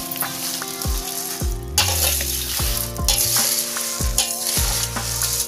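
Roasted homemade Gharguti Gavran Thasaka masala spices are stirred in a pan. A spoon scrapes and knocks against the metal in repeated close strokes, and a faint sizzle runs underneath.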